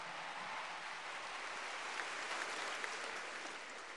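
Dense, steady applause from a large crowd fills the whole stretch, a continuous wash of clapping without pause.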